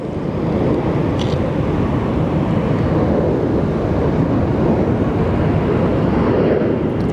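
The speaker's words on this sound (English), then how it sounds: "It's an A320neo coming in from Philadelphia." An Airbus A320neo airliner arriving from Philadelphia at Sky Harbor gives off a steady, loud, broadband roar that holds at an even level throughout, with no talking.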